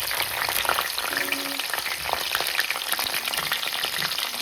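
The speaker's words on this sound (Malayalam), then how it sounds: "ഇതിനകത്തേക്ക് നമുക്ക് വെളുത്തുള്ളി ഇട്ട് കൊടുക്കാം." Garlic frying in hot coconut oil makes a dense, crackling sizzle that holds steady and close throughout, with faint stirring scrapes and no one talking.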